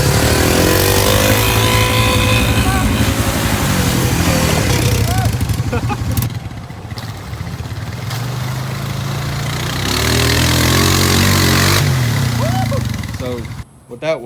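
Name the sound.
Honda 300 motorcycle engine running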